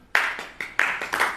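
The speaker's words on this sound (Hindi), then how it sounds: "ताली बजाएं।" An audience claps hands in four short, loud bursts of group applause, each separated by brief pauses, close by and with no speech over it.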